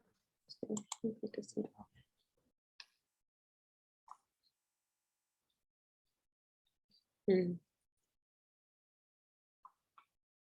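A handful of sparse, sharp computer mouse clicks ring out one at a time across a quiet stretch, with a short burst of speech at the start and another midway.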